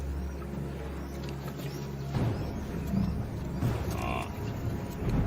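A herd of African buffalo approaches across the South African savanna, with low lowing calls and rumbling movement at moderate distance over a steady outdoor background.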